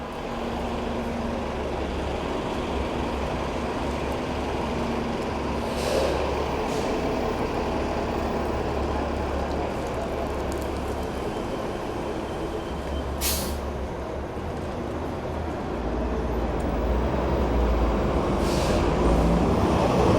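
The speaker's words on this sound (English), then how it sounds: "It seems like the bus line is quite active here in this area." City buses and other traffic pass along Brighton Beach Avenue in Brooklyn, New York, a continuous low engine rumble with occasional brief air-brake hisses over steady street noise.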